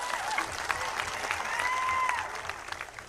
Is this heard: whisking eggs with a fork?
no